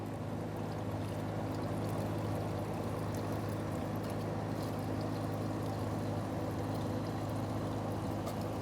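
Fuel pours from a 2014-2018 Mazda 3 fuel pump assembly back into the tank, a steady, faint trickling and splashing of liquid heard alone.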